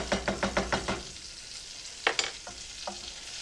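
A whisk stirs flour into melted butter in a pan: a quick run of about five rhythmic scraping strokes, then a pause and a few scattered taps against the pan, quiet and close with a soft sizzle underneath.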